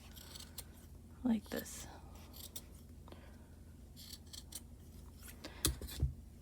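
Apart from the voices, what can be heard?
sharp scissors cutting crochet yarn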